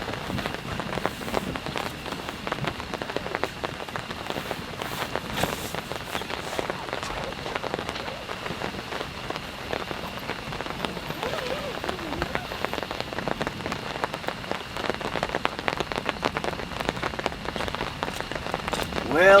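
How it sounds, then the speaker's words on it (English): Heavy rain drums steadily on the fabric of a large pop-up tent during a storm while camping, a dense continuous patter close by and loud for the whole stretch, with no pause. "Already the rain is picking back up again."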